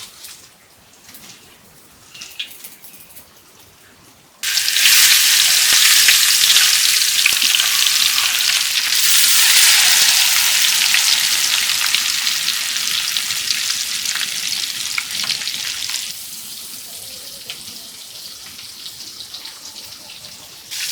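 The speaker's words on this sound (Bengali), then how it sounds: "তেল তেলটা গরম হইলেই মাছটা দিয়ে দেব" Small fish hit hot oil in a pan and fry with a loud, steady sizzle that bursts in suddenly and crackles on for many seconds, easing slightly toward the end.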